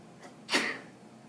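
A single sharp sneeze bursts out indoors during a chemistry class, loud and brief against a quiet room hum.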